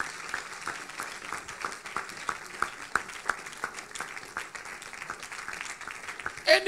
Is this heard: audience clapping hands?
yes